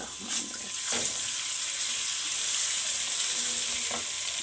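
Garlic ginger paste sizzles steadily in a hot pan, with a constant crackling hiss and a few soft clinks, and no voices.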